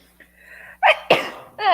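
A single person sneezes, with a quick sharp intake of breath followed by a loud burst, close up, then a brief voiced sound right after.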